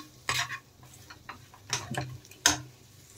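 A spoon scrapes and stirs a spiced potato filling in a pan, three distinct clattering strokes spaced across a quiet background with faint sizzling in between.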